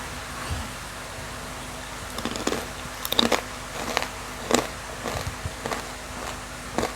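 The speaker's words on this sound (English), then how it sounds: "Wow, you can hear that? The crunch is 10 out of 10." Crunchy Tike chips, a traditional tuber snack from Indramayu, West Java, bitten and chewed close up, giving a series of sharp crisp crunches spaced about a second apart, with no talk.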